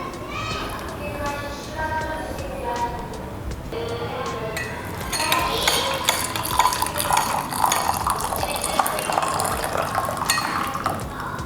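Homemade wheat powder stirred into milk with a spoon, giving a steady clinking and liquid swirl that grows louder partway through, heard under a voice talking.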